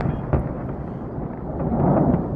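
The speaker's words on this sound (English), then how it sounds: "Here's the footage of the incoming U.S. missiles slamming into the Islamic regime's headquarters within Tehran." Deep, rumbling blasts from U.S. missiles striking a regime headquarters building in Tehran, heard from afar as a muffled, rolling boom with a sharper thud early on and swelling low rumble afterward.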